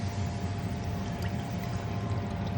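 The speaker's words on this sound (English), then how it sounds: "I take a can of Campbell's beef consomme and" Campbell's beef consomme poured from a can into a pan of steak drippings, a steady continuous liquid pour with low bubbling, close and even throughout with no talk.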